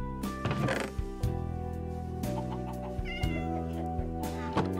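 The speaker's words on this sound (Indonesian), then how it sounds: "Oh iya, beneran ada kucing." Video-game cat meows rise out of a bed of steady background music, with a couple of short mewing calls and faint clicks around them.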